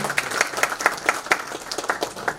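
Audience at a Mithila theatre festival award ceremony in Delhi claps in a short burst of applause, with individual claps standing out clearly over the crowd.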